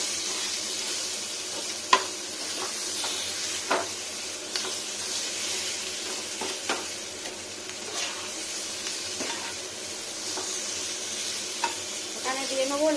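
Sliced boiled potatoes fry in a pan over lowered heat, a soft continuous sizzle broken by frequent light scraping and stirring clicks of a utensil, close and moderately quiet, without speech.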